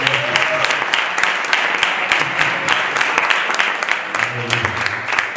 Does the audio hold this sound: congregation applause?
yes